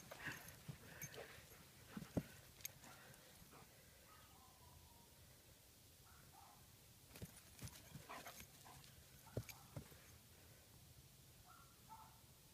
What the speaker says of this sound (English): Uh-oh, everybody's barking.